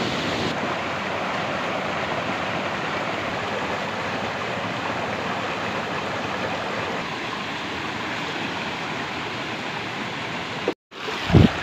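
Water rushing through a shallow stream crossing on a rainy day, heard as a steady, close, broadband flow for about ten seconds, then a brief dropout and a short handling bump at the end.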